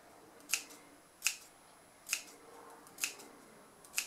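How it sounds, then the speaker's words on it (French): Sewing scissors snip small, light notches into fabric piping for a crossbody bag, giving five crisp, evenly spaced snips, close and quiet, with no talking. "vous prenez vos ciseaux et vous faites des petits pics légers"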